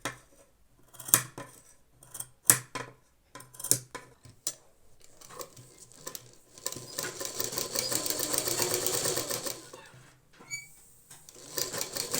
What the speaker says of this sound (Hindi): अब हम इसमें बिठाने की सिलाई लगा देते हैं